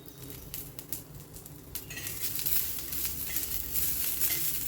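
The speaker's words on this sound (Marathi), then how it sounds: "मिरच्या तेलामध्ये तळून घेतल्या की त्याचा तिखटपणा थोडासा कमी होतो" Green chillies and garlic frying in hot oil for a Maharashtrian thecha: a steady, fairly quiet sizzle that grows denser partway through, with light clinks of a spoon stirring in the pan and no voices.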